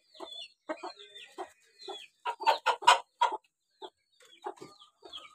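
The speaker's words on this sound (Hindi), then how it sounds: "तो मुर्गा भी आ गया है" Chickens cluck in short irregular bursts close by on a farm, with a rooster's louder squawks mixed in, all in a quiet setting.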